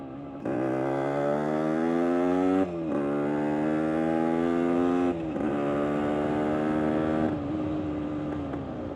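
A 1975 Yamaha DT125 enduro motorcycle heard from a helmet camera while riding, its two-stroke engine buzzing steadily and climbing in pitch through several gears, each shift marked by a brief dip.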